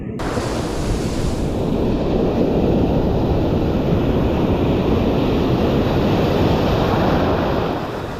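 Heavy ocean surf pounding the shore at La Union during a typhoon, with strong wind buffeting the microphone; a loud, continuous roar of breaking waves and gusts runs unbroken throughout, with no voices.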